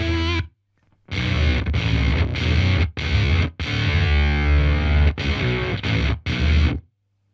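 An electric guitar played through an Earthquaker Devices Bit Commander octave pedal with heavy upper-octave synth-like fuzz, loud chopped phrases separated by short silences, no voices.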